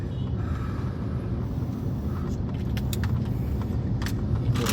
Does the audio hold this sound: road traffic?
yes